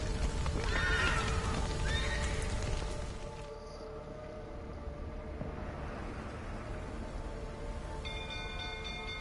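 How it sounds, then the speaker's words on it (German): Horses neigh in The Witcher 3 with shrill, wavering whinnies near the start, set over a loud rumbling background that drops away, leaving faint tones and a thin hum behind. "The horses!"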